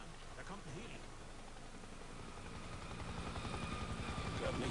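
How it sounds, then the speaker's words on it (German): A helicopter flies over a city in the video game Spec Ops: The Line, its rotor drone growing steadily louder as it approaches, heard under people talking. "Langsam, da kommt ein Heli."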